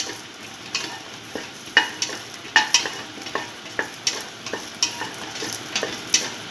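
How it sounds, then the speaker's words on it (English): Green chili being stirred into a sizzling beef and okra stew in a pan, with a steady frying hiss under repeated sharp scrapes and clinks of a utensil at a loose rhythm, close by, without any talk. "Thoroughly mix the green chili to the rest of the mixture."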